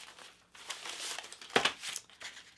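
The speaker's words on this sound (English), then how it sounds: "I'm going to go ahead and take the tape off the back" Tape peeled off the back of handmade coasters, a soft crinkling and tearing rustle close by, with one sharper ripping burst midway and quieter crackles after.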